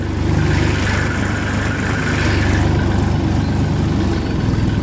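A tractor engine runs steadily in low gear while pulling a loaded trolley across a ploughed field, producing a loud, continuous diesel rumble with no break and no voices.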